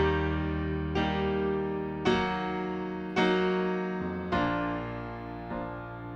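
Piano plays a slow progression of triads shifting from major to minor, five sustained chords struck about once a second, each ringing and decaying, close and clear with no voices.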